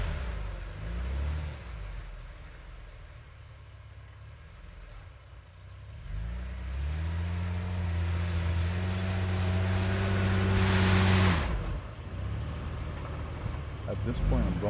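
An off-road vehicle rocks back and forth in deep, soft snow, with its engine idling and then revving up in repeated surges as it pushes forward and backs up. The engine sounds close and fairly loud.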